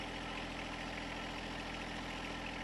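A John Deere compact tractor engine idles steadily with the handbrake on, a constant low droning rumble with an even mechanical throb, close by and unchanging throughout.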